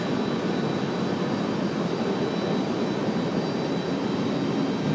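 A Breeze Airways Airbus A220 jet comes in to land, its engines giving a steady, broad roar that stays loud and constant throughout with no voices over it.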